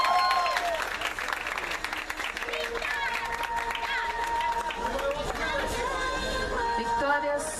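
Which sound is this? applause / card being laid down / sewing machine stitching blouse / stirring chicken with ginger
applause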